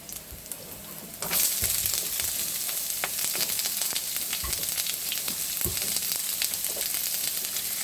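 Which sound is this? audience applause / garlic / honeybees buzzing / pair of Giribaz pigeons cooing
garlic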